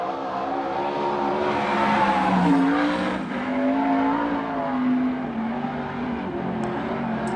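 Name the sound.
360 sprint car, Maxim chassis, racing a qualifying lap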